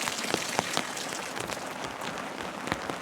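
Heavy rain pelts a car during car camping, a dense, steady patter of drops drumming on the roof and windows, with sharper individual taps standing out throughout.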